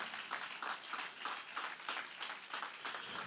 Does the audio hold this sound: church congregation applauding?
yes